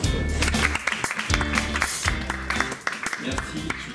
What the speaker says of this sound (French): Et vous pouvez aussi l'applaudir.